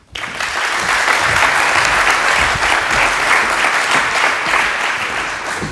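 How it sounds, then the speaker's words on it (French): An audience at a French-language round-table event breaks into steady, dense applause that holds at full strength for several seconds before easing slightly, loud and unbroken with no voices over it. "Je vous demande de l'applaudir."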